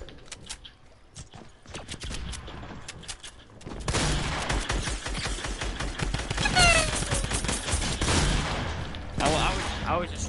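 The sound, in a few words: gunfire from a video game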